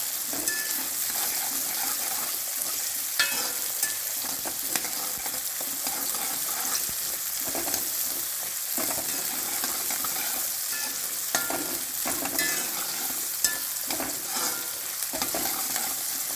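Small onions sauté in a pan for a Kerala-style onion theeyal curry, a steady close-up sizzle running throughout with repeated scraping stirs and light clinks of the utensil against the pan, and no voices.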